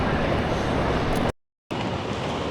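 A large Swiss train in motion sends up a loud, steady broadband rumble and roar, cut by a brief dropout of silence before the noise resumes.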